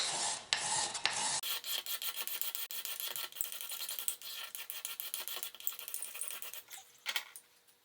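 Rasping strokes of a file or abrasive resurfacing a vintage violin fingerboard, quick uneven scrapes repeating close up after a brief opening rustle.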